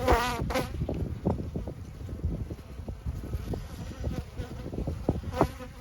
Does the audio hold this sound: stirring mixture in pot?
no